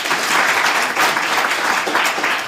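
A round of applause breaks out at a regional government address in Otjozondjupa, Namibia, a dense, steady wash of many hands clapping at close range with no talk over it.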